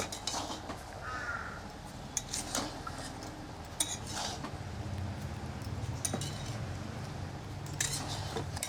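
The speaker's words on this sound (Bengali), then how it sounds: "এই যে এখন কচুর শাকটা একটু নাড়াচাড়া দিয়ে দেই" Taro leaves (kochur shaak) with garlic being stirred in a pan, with repeated scraping and clinking of a utensil against metal, steady and close, a bird cawing faintly in the background.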